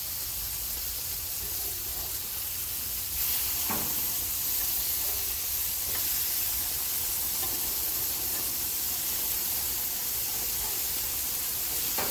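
Ground beef patties sizzling on an outdoor grill as they are flipped, a steady hiss and crackle with a couple of brief scraping knocks from the turning, no voices.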